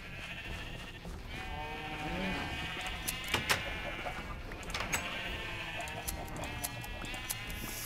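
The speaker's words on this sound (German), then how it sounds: "Schafe, jetzt seid ihr aber dran." Sheep in the video game Minecraft bleat several times in short wavering calls, spaced irregularly under someone speaking German over quiet game ambience.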